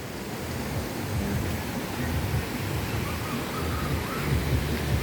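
River water at a beach resort, a steady broadband rush of flowing water with faint voices and activity mixed in, even and continuous at moderate level.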